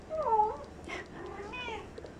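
A Persian mother cat meows frantically for her loose kittens, giving a few close, insistent calls with rising and falling pitch, alone without talk.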